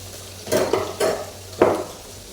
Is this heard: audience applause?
no